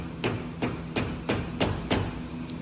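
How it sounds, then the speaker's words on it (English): A hammer gives gentle whacks to a Jeep axle part, six sharp metallic strikes spaced evenly about every third of a second, close and clear over a low steady background hum. "Key is give it a couple whacks going the other way."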